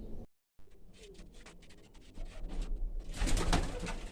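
Soft pigeon cooing close by amid faint rustling and ambient outdoor noise, with a louder burst of wingbeats or scuffling toward the end.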